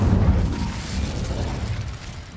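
An Incendio fire spell goes off in the video game Hogwarts Legacy, a loud, dense whooshing burst of flame that rumbles at once and slowly fades over a couple of seconds, with no talking.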